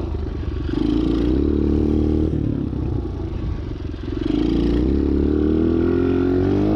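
A motorcycle, not a dirt bike or motocross machine, is ridden along, its engine droning loud and close with steady low rumble that rises and falls as the throttle shifts.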